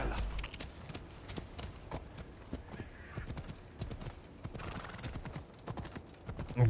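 A horse gallops through a town in the video game Assassin's Creed Odyssey, its rapid hoofbeats pounding in a steady drumming rhythm with a whinny, fairly quiet and close, with no talk.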